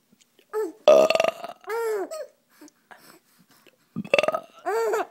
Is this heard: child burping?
yes